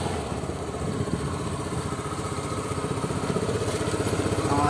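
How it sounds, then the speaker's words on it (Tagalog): A Fekon Venture ADV150 motorcycle engine idles nearby with a steady, rapid low putter and slight clatter, holding even and close throughout, gently rising toward the end, with no talking. "Sound check tayo ng engine"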